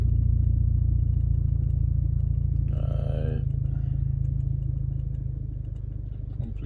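A 6th-generation Chevrolet Camaro with a manual gearbox pulls away from a stop, its engine holding a steady low drone that eases slightly, with a short clatter midway.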